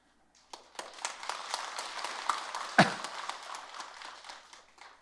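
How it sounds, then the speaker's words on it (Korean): A Buddhist temple congregation at a Sunday Dharma talk gives sparse, hesitant applause. Scattered claps start thin, build briefly to light clapping, then fade out after a few seconds. "박수를 칠려다가 말까 하다가 치는 것 같다"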